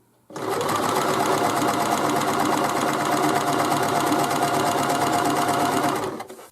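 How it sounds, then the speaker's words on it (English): A Brother Boutique 30 sewing machine stitches a narrow zigzag in one loud, steady, close run of rapid mechanical whirring and needle clatter lasting about six seconds, with no talk over it. "So let's have a quick look at a zigzag. This is a narrow zigzag."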